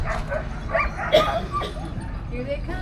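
Sled dogs at a kennel in Alaska yip, whimper and bark excitedly in an overlapping chorus, fairly close, with a person talking over the noise.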